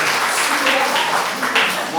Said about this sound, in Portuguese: Uma grande salva de palmas para a Zuleika